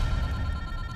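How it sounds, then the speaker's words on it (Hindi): A telephone ringback tone on an outgoing call: a brief, steady, fairly faint electronic ringing with no voices. "जॉनसन को फोन लगाओ सर"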